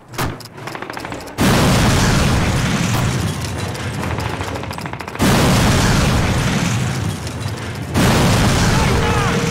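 Planted bombs detonating at a V2 rocket site in Call of Duty: three massive, sustained explosions follow one another, loud and close, each roaring on with rumble and crackling debris before the next blast hits.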